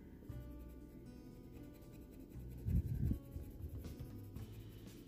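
Faber-Castell colored pencil shading on paper, a soft close scratchy scribbling with short strokes and a slightly louder burst midway, faint and steady with no talk.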